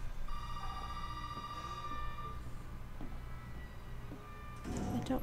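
A phone rings in the Resident Evil 7 video game, a steady electronic tone lasting a couple of seconds over a low droning game ambience, followed later by a faint clatter.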